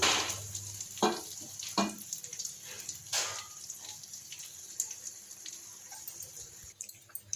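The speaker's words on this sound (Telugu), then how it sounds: "ఇందులో మనం వేయించి పక్కకు తీసి పెట్టుకున్న ఈ ఫ్రాన్స్ కూడా వేసేసుకుందాం" Prawns frying with ginger paste in a hot pan, a steady close sizzle with occasional sharper spatters and stirring bursts, no voices.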